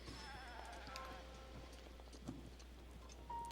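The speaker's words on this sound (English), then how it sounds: "There's a mountain goat that I can kill for no reason." A mountain goat bleats in Zelda: Breath of the Wild on Mount Lanayru, a faint brief call over steady pattering rain and a low constant hum.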